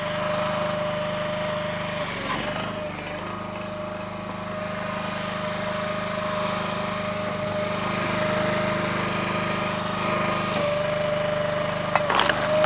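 A Split-Fire 3490 log splitter's small gas engine runs steadily at about three-quarter throttle, a continuous close droning hum with a constant pitch and a brief clank near the end.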